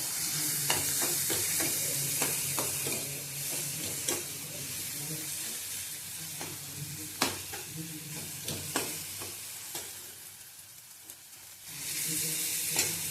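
Masala and ginger-garlic paste roasting in a pan, a continuous close sizzle with regular scraping stir strokes throughout, louder at the start and end.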